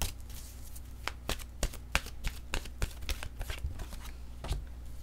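Deck of oracle cards being shuffled by hand, a close, continuous riffling and flicking with irregular sharp slaps, fairly quiet and without talk.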